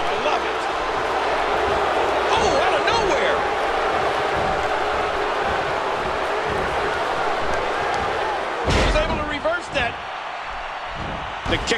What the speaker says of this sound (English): He's got him up. Big body slam.